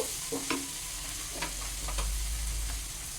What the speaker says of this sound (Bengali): এখন আমি এটাকে একটু নেড়ে ছেড়ে এর মধ্যে দিয়ে দেব